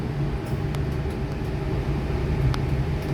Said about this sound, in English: Yeah, train.